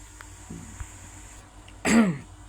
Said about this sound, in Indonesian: Sorry, saya batuk-batuk.